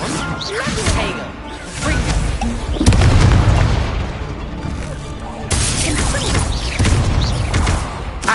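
Magical blast spells bursting in Hogwarts Legacy, several booming impacts amid combat noise, loud and close, with a player shouting over the fight.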